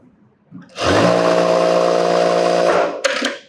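A sewing machine stitches lining cloth in a tailoring class, its motor spinning up into a steady, close whirring hum for about two seconds before stopping, followed by a brief sharp click.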